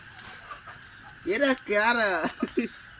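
Chickens at a nearby poultry farm cluck in a loud, close run of rising and falling calls with a few short clucks after it, over faint background noise.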